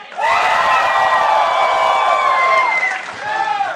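A live convention audience at PAX East in Boston yells and cheers loudly, a dense sustained roar of many voices with whoops rising above it before it starts to fade near the end.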